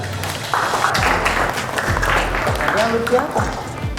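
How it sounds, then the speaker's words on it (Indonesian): Students in a classroom applaud their classmates with a dense patter of clapping, mixed with a few voices and low thumps nearby. "Beri tepuk tangan buat teman-temannya."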